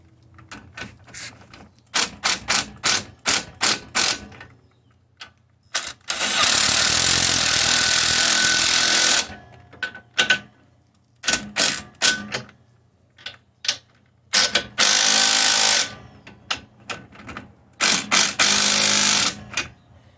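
A ratchet tightening the outside leaf spring bolt on a 1996 Jeep Cherokee XJ during a 3-inch lift swap, giving rapid close clicking strokes between longer continuous rattling runs, loud and without speech.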